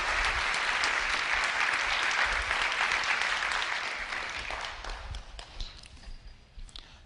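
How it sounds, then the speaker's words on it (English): An audience at a youth poetry event in New York bursts into steady, dense applause that holds strong for several seconds and then thins into scattered claps as it dies down. "Give this young man a huge round of applause, Mr. Seth Alafriki."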